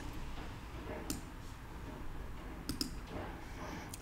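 Several sharp mouse clicks at a computer while working in Excel, a single click near the start, then a quick pair and another later, faint over a low steady room hum.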